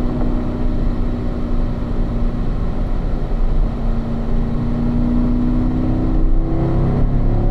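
Car on a race track under braking and a downshift, a loud, continuous engine drone near at hand with steady pitch that bends slightly upward toward the end.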